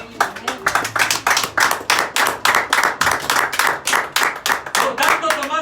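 Church congregation clapping along in steady rhythm during a Spanish-language sermon, loud and close, with many hands striking roughly twice per second and voices audible underneath.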